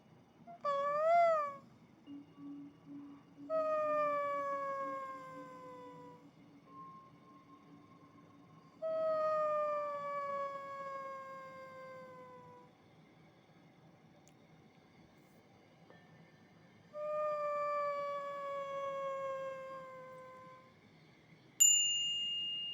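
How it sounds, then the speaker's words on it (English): Dolphins calling in meditation audio, heard as distant, separate bursts of high whistling cries with long quiet gaps between them over a soft low background. "from far away, you hear the dolphins calling out to you."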